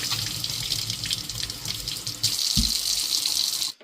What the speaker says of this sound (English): I'm going to rinse them off in cold water